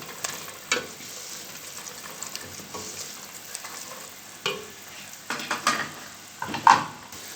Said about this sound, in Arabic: كله يتقلب مع بعضه ياخد تحميصه حلوه. نقلب فيهم كده دقيقتين 3